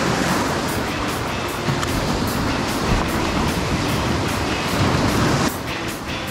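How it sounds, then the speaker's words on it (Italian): Inshore sea water washing and splashing steadily near the shore during a fishing trip, a dense continuous wash that drops off toward the end, with no talking. "Il mare è in ottime condizioni."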